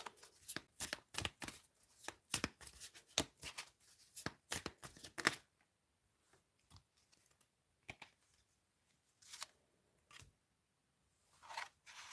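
A deck of tarot cards is shuffled with quick, crisp riffling snaps in a dense burst, followed by sparser, softer card taps and slides at a close, quiet level.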